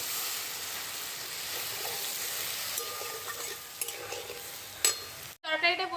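Milk goes into a pan of sizzling fried spice paste, giving a steady close hiss and crackle with small clinks before the sound cuts off and a voice briefly speaks.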